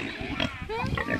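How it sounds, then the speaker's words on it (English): Pigs on a farm grunt and oink close by in a short burst of snorts, mixed with a person's cheerful voice speaking over them on a windy day. "Come to see the piggies."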